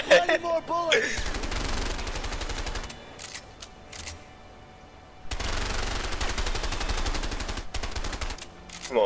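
Rapid automatic gunfire in a video game, two long sustained bursts of dense, loud firing separated by a short lull, with voices briefly at the start.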